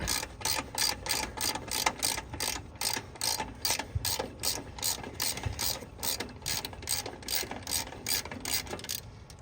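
A ratchet wrench clicks in a fast, steady rhythm of repeated strokes, close and fairly quiet, while working on a Ford 860 tractor.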